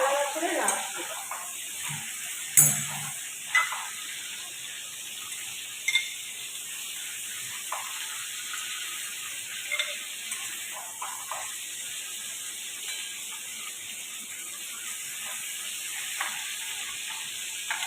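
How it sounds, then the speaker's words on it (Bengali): Frying food sizzles steadily in a pan, with a few sharp clinks and scrapes of utensils against the pan standing out near the start and middle. "দেখো এটা আমি মানে জাস্ট একটু ফ্রাই করে নিলাম।"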